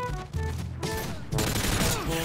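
Continuous gunfire bursts from a Modern Warfare 2 online multiplayer match, loud and dense, with overlapping shots and game effects filling the whole stretch.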